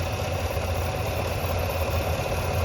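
A 2021 GMC Yukon XL AT4 4x4 engine idles smoothly and steadily under an open hood, a constant low rumble with no knocking or ticking, close and continuous with no speech.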